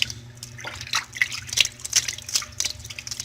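An Android phone is swished through hot water, producing irregular sloshing and dripping splashes, close and moderately loud, in uneven bursts over a faint low hum.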